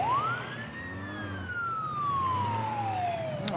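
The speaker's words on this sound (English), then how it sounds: "we got our ambulance, of course, is responding to someone" A wailing ambulance siren in the SimCity city-building game sweeps slowly from high to low pitch over steady traffic hum, carrying clearly through the whole stretch with no talking.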